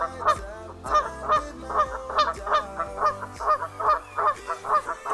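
Waterfowl honking repeatedly on a calm lake at sunrise, a steady run of loud, close calls in quick rhythmic bursts with no talk.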